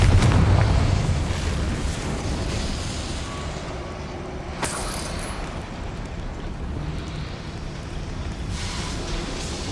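A Confringo fire spell explosion in the Hogwarts Legacy video game opens with a deep, loud boom that decays into a long rumbling tail, followed by a couple of lighter crackling hits.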